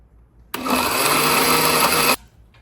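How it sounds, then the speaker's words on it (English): Blender grinding soaked almonds with milk, a loud, steady motor whir that starts abruptly, runs for about a second and a half, and cuts off sharply, heard close. "if your blender is getting stuck and you don't see the soaked almonds breaking down, just add a little bit more milk"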